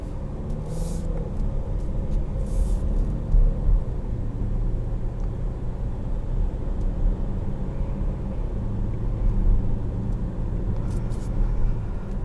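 A 2022 Volvo XC60 B5 Inscription driving, with a steady low engine and road rumble heard from inside the cabin, continuous and even throughout with no talking.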